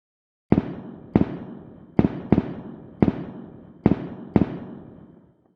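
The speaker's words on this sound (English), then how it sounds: "here we see some fireworks exploding" A string of seven sharp explosive bangs at irregular intervals, each followed by a crackling decay, loud and fairly close with no voices.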